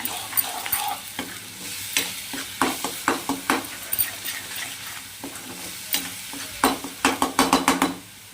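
Green mushroom curry being roasted in a pan, a continuous sizzle beneath sharp, irregular clacks of a spoon scraping and stirring against the pan, bursts of rapid strokes near the end, close up with no speech.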